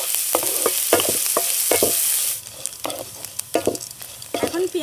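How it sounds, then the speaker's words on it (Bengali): Onion, green chilli, ginger and curry leaves fry in a pan, a loud steady sizzle for the first half that then drops away, leaving quick stirring scrapes and knocks close by. "এবার সব কিছু হালকা করে ভেজে নেব।"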